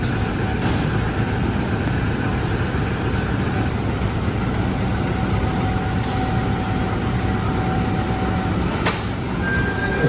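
The Airlangga passenger train runs between Jakarta Pasar Senen and Surabaya Pasar Turi. It gives a steady, close rolling rumble on the rails, with faint wheel squeals and a brief high screech near the end.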